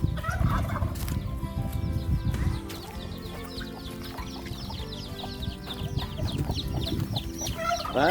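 Chickens in a farm coop cluck and gobble steadily, a dense crowd of birds close by with overlapping calls and rustling throughout, no talk.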